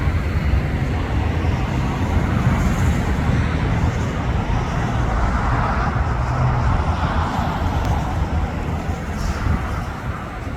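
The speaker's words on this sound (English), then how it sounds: "This is United Airlines 787 Dreamliner, landing here at LAX from Haneda" A United Airlines Boeing 787 Dreamliner arriving at LAX from Tokyo Haneda gives a steady, loud broadband jet roar that holds for the whole stretch, with a swelling midrange rush and no clear talk.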